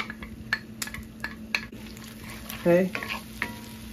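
Chopped onion sizzling in a pan with a little salt, stirred with a wooden spoon: steady frying hiss with scattered scraping taps, close, and a brief spoken word partway through.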